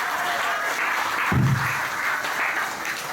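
Steady applause from a crowd fills the clip, a continuous wash of clapping with a brief low thump in the middle.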